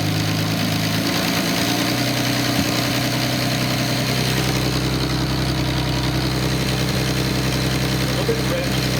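A Nissan 280ZX L28 engine on a test stand idles steadily with a low, even hum and raised idle, close and continuous throughout.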